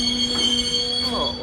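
An older interurban train on a line in Rome passes with squealing wheels and tonal metallic whines over a steady rail rumble, loud and close throughout.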